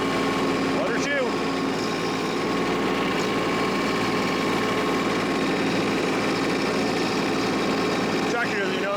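A compact tractor drives a 5-foot tiller at 540 RPM PTO speed while working soil: a loud, steady engine drone with mechanical rumble, continuous and close throughout.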